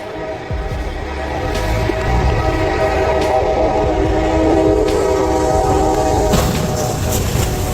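A giant steel train roars along the tracks with its horn sounding in long sustained tones over a heavy, continuous rumble, loud and close, with no talk.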